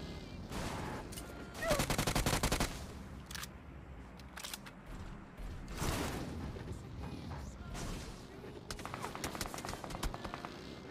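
Gunfire in the mobile battle-royale game PUBG Mobile: several loud bursts of shots, a long volley near the two-second mark and another around six seconds, then rapid clustered shots toward the end over steady game ambience, with no talking.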